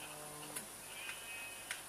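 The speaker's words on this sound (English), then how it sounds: "There's so many sheep in this world for some reason." Sheep in the Minecraft video game give a few short, faint bleats at scattered moments over a steady low background hum.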